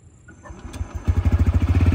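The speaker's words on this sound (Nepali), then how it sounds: "यो बाइक चाहिँ साइलेन्टली स्टार्ट हुन्छ र तपाईहरुलाई म स्टार्ट गरेर पनि देखाउन जादै छु" A TVS Raider 125cc BS6 fuel-injected motorcycle starts with a soft crank, then settles into a steady, throbbing idle that grows louder and close by.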